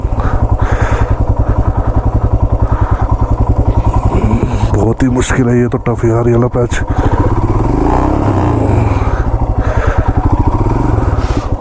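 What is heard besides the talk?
motorcycle stuck and skidding on black ice, engine revving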